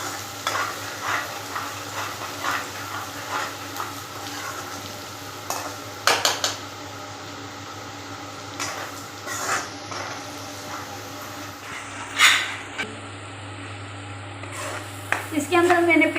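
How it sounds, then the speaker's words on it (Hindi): Garlic ginger paste frying with onions in a pan for an aloo anda curry, a steady close sizzle under repeated scraping and stirring clinks of a utensil against the pan, with no talk. "एक से 2 मिनट इसको फ्राई करेंगे प्याज के अंदर डाल के।"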